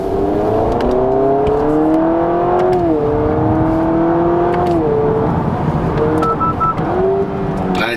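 Honda Prelude engine in S+ sport mode downshifting from inside the cabin, a loud steady drone whose pitch rises, drops and climbs again through gear changes, with no voices.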